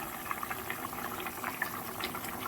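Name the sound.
fish curry with potatoes and pointed gourd simmering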